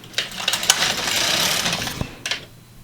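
An LK150 knitting machine carriage slides across a plain row in one smooth, rushing pass of about two seconds, with a few clicks at the start and end, close and alone.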